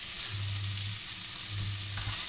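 Shrimp and garlic sizzle in a hot pan, a constant bright crackle with two longer low scraping stirs. The frying is close and there is no talk.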